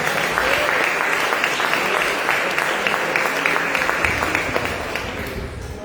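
A church congregation claps for the Lord, a loud, sustained burst of many hands clapping together with some voices calling out beneath it, holding steady for several seconds before easing slightly at the end.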